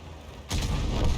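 A tank gun fires in World of Tanks: a sudden heavy boom breaks a quiet background and is followed by a booming, rumbling tail.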